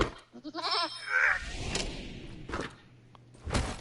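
Goat bleats in the video game Wasteland 3, a short run of quavering bleats near the start followed by a few softer calls, with thuds and game ambience in between and no talking.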